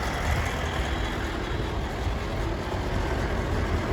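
Loud, close, continuous engine roar from a Massey Ferguson 1150 tractor running after being rescued from the crusher, a dense steady drone with no talking over it.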